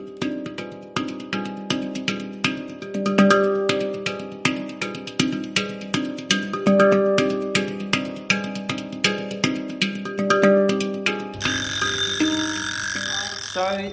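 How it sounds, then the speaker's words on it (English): An oven timer buzzer goes off in a home kitchen, sounding a long run of rapid, regular electronic beeps for about eleven seconds before giving way to a broad, steady hiss. "So the buzzer has finally gone off."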